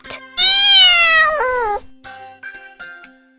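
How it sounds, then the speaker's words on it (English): A cat meows loudly and close up in one long, drawn-out call that bends downward, followed by a few softer, shorter mews. "C is for cat."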